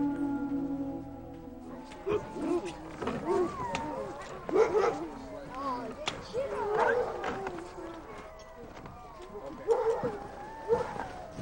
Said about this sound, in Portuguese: Os cães groenlandeses são criados para puxar trenós